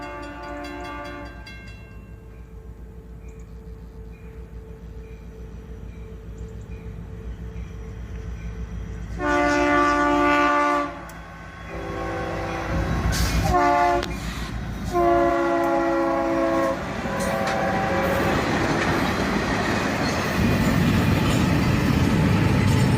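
A Lehigh Valley freight train led by SD90MAC, SD30 slug and SD50-3 locomotives, filmed in late summer or fall 2018, rumbles closer while several loud horn blasts sound midway, then the heavy roar of passing cars builds toward the end.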